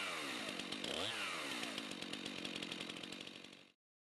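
A STIHL chainsaw engine revs hard at high speed with the chain brake engaged, a loud, close, steady buzzing drone that holds for nearly four seconds before cutting off abruptly.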